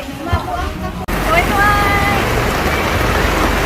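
Heavy rain pours steadily and loudly at an outdoor San Juan feast-day celebration by the sea, with a crowd's voices and shouting mixed into the constant hiss.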